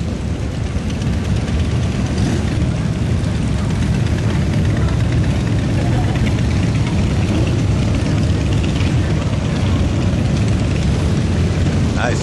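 Many motorcycle engines at a Christmas toy drive rumble and idle together in a loud, constant low drone that fills the whole stretch, with faint voices in the background.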